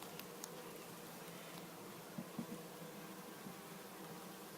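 Faint, steady buzzing of honeybees gathered around a hive, a low continuous drone with a few soft knocks partway through.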